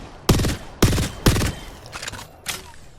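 Nemesis energy rifle in Apex Legends firing three loud, punchy bursts in a steady rhythm, then quieter trailing shots and mechanical clicks.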